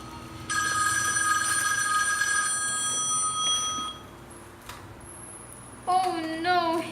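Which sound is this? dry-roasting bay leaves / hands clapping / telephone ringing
telephone ringing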